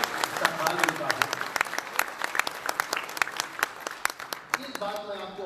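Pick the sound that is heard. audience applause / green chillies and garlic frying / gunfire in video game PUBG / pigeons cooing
audience applause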